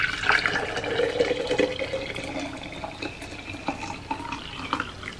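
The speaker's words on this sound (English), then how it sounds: "pour in the 4 cups of hot water" Four cups of hot water pour into a container for a crystal ornament experiment, a close, continuous splashing stream with gurgling bursts.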